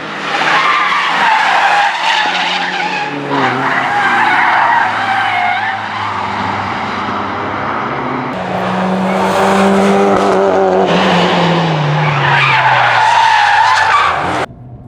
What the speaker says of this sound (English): Look at this Megane exiting the foxhole while maintaining like freaking amazing drift.